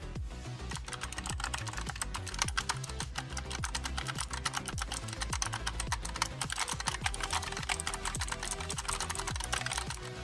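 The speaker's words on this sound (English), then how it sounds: "This is what the keyboard sounds when you're raising." Rapid, steady clicking of an EVGA Z20 optical mechanical gaming keyboard with clicky switches being typed on, dense and continuous, close up with no voices.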